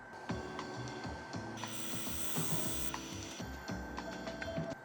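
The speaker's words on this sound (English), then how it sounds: "This is that 3mm parting tool again." A 3mm parting tool cuts into wood turned on a lathe, giving a steady close scraping, chattering whir with a constant motor hum and brief shifts in pitch as the cut changes.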